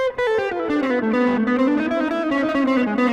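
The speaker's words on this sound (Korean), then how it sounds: "딜레이를 걸어버리면 뭉개져요. 빨리 칠 때 소리가." Electric guitar played fast through a delay effect, a quick run of notes that smears together into a sustained wash, loud and steady throughout with no voices.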